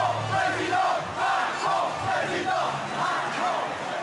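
A crowd at a political rally for Emmanuel Macron roars and cheers continuously, a dense wash of many voices swelling in rhythmic waves throughout.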